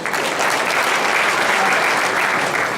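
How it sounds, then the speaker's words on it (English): A crowd claps loudly and steadily, sustained applause filling the whole stretch without a break. "Give yourself a big round of applause."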